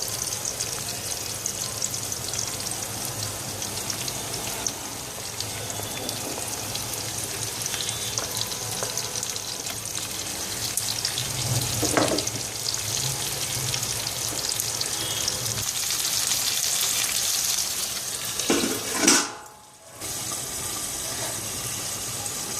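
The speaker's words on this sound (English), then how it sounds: "Add oil, onions and curry leaves." Oil, onions and curry leaves frying in a pan for pulav rice: a steady, fairly loud sizzle runs throughout, with a few stirring scrapes and a brief clatter near the end, and no talking.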